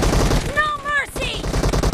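A team deathmatch video game fight with dense, fast gunfire pounding throughout, near and loud, while a voice briefly speaks over the shooting.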